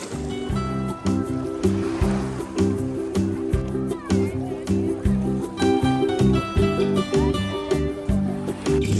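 Adriatic Sea waves at a free public beach in Bari, Italy, heard as a steady wash of surf under loud music and someone talking close by.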